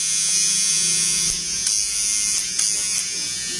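An electric shaver runs with a continuous close, high-pitched buzz, punctuated by a few brief clicks and slight shifts in tone as it moves.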